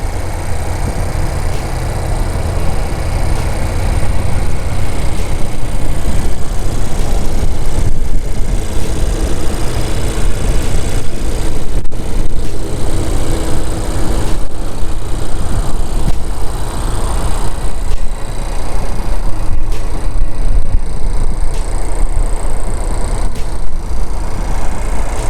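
Steady idle of a 1.5-liter turbocharged engine in a 2020 Honda CR-V Touring, a continuous low rumble held at close range and fairly loud for the whole stretch, with no talking.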